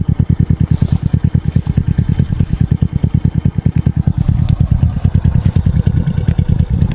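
A Suzuki Smash 115 motorcycle fitted with a Power Pipe exhaust idles and revs close up, its rapid popping exhaust pulses steady and loud, with the engine note building slightly toward the end.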